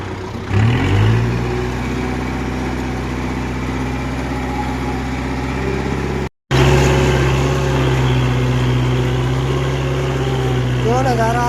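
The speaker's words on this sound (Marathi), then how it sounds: "ट्रॅक्टर कसं चालतो चालून दाखवू 2000 RPM मध्ये" A Kubota 4501 tractor engine runs at 2000 RPM in a sticky, muddy field, giving a loud, steady, close droning hum that cuts out for a split second partway through and then resumes just as strong.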